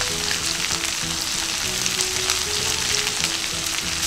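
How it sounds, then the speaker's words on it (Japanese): Mushrooms stir-fried over high heat in chicken fat and butter, for a soy-milk mushroom stew, sizzle and crackle loudly and steadily up close, with no talk. "キノコ炒める時も強火でお願いします。"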